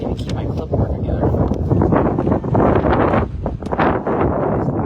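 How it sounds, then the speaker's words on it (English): Strong gusting wind buffets the microphone outdoors at a beep baseball game, a loud continuous roaring rumble that swells and dips throughout. "So windy, I can't even keep my clipboard together."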